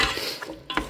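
Chopped onions are tossed in oil in a cooking pan, giving a brief scrape and sizzle with a couple of short clatters of food shifting against the pan.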